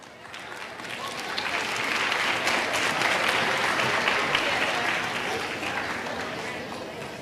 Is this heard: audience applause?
yes